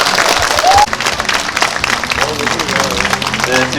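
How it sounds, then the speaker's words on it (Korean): A crowd applauds at a book launch event for a former Bucheon mayor's book on urban sustainability, the clapping dense and steady throughout, with a brief tonal whistle or squeak partway in. "네, 큰 박수 부탁드립니다"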